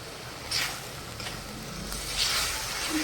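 Cabbage and soybean curry sautéing in a pan with salt, a steady soft sizzle with a few brief louder scrapes of stirring, fairly quiet and without talk.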